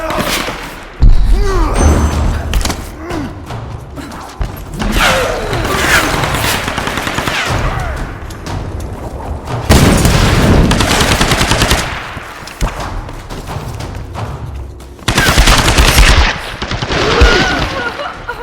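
Rapid bursts of automatic gunfire from the Tomb Raider reboot game, loud and close, with repeated volleys and heavy impacts spread across the clip amid dense game sound.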